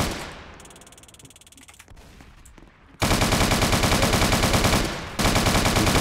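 Rapid automatic gunfire from the Roblox game Prison Life, loud sustained bursts of shots after a quieter stretch, with a brief gap before the firing resumes.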